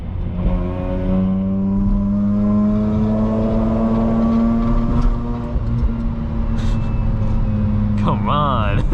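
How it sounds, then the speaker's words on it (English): Mazda RX8 rotary engine downshifting on a night city drive from Brooklyn to Queens, a loud close hum with a steadily climbing revving note, ending in a sharp blip. "Do a little downshift."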